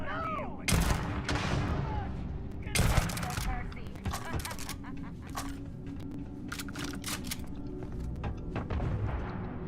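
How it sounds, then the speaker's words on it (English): Bursts of gunfire and booming explosions in the space game Starfield, several sharp loud blasts in the first few seconds, then lighter rattling shots continuing over a steady background, with a voice talking at moments. "Random explosions"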